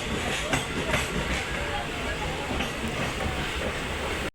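Train at Chikkaballapur railway station, a loud continuous rumble and hiss of rolling rail cars close by, with a faint rhythmic clatter throughout.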